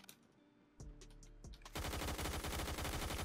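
Gunfire in the video game Phantom Forces: a few sharp single shots, then a dense, loud stretch of rapid automatic fire with tight repeating bursts.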